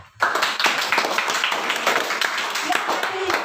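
A classroom of children clap their hands together in a lesson, a sudden burst of brisk, fairly loud clapping that starts sharply and continues evenly.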